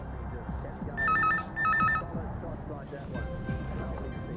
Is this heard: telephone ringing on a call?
yes